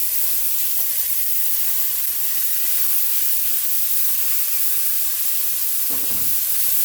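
Chunky chicken pieces fry in a well-oiled pan over high heat, a loud, constant close sizzle and hiss with a brief stir or shift near the end.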